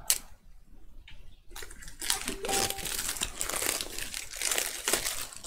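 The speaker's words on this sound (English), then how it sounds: "So, I'll cut the shrink wrap off here." Plastic shrink wrap being cut and torn off a boxed game, with close, busy crinkling and crackling that starts after a short quiet and keeps going with small bursts to the end.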